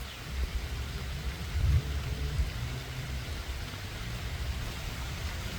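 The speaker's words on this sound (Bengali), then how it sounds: "এই মুহূর্তেই বৃষ্টি নেমে পড়ল" Soft, steady rain hiss fills a forest in Jamalpur, Bangladesh, with a low rumble underneath, faint and continuous with no voices.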